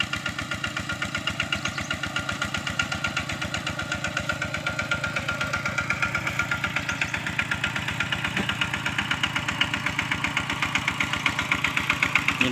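A vehicle engine idles nearby with a steady, evenly pulsing rumble and a faint knocking rhythm that runs unbroken and fairly loud throughout, with no talking.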